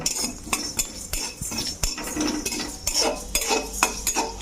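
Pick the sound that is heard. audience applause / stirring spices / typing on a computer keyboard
stirring spices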